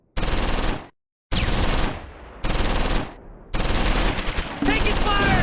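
Gunfire in Close Combat 4 Battle of the Bulge fighting at Simmerath, loud sustained machine-gun bursts broken by short silences, with a voice shouting over the final stretch.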